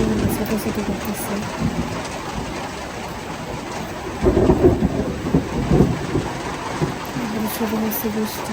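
Heavy rain pours down steadily in a village downpour, a dense wash of noise with a deeper thunder rumble swelling midway before settling back into the continuous roar.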